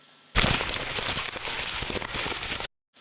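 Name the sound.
synthesizer paper crackle noise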